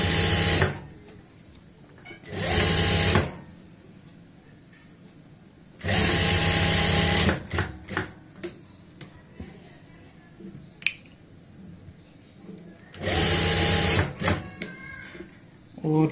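A sewing machine runs in four separate bursts, stitching a blouse from the shoulder along the armhole. Its steady, loud whir alternates with quiet handling clicks between runs.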